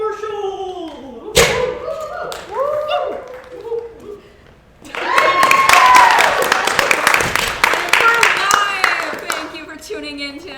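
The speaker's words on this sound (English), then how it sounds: "when she gets it, we clap" Group of people clapping together at a comedy infomercial skit, with a burst of dense hand claps swelling loudly under and between speaking voices.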